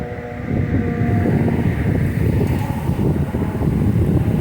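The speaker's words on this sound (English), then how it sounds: "That wind picking up again." Strong wind picks up outdoors on a highway overpass, roaring and buffeting steadily close to the microphone with a low rumble throughout, and no talking.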